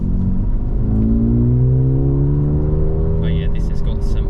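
Mercedes-AMG A35 accelerating hard, its engine note climbing loud and close from inside the cabin before a gear shift drops the pitch and the pull resumes.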